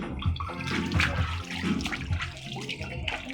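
Water sloshing and splashing in a swimming pool, a close, busy churning wash with bursts of movement and indistinct voices mixed in.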